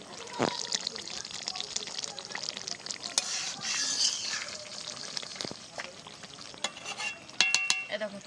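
Chicken chaap gravy cooking down in a pan, a soft bubbling sizzle with stirring scrapes and a few sharper clinks, close and moderately quiet, with someone talking faintly over it.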